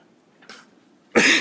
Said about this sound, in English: Funny thing, I hadn't coughed all morning until I got up here to speak.